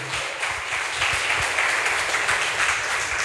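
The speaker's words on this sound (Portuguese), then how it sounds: "Aplaude e glorifique o nome do Senhor" A church congregation applauds during worship, a dense continuous patter of many hands clapping at moderate loudness, with no talk over it.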